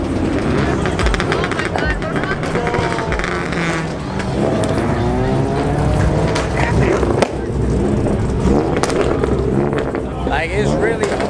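Cars rev and roar at a Monday car meet, engines climbing and crackling over loud crowd chatter, with sharp pops and bangs scattered through the busy, close scene.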